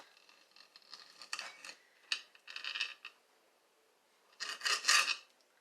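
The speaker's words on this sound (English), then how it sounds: "And where's my knife? And you can cut this any way you want." A knife cutting through seaweed on a cutting board in a home kitchen, with several short crisp rasping strokes separated by pauses and a louder slice at the end, close and without talk.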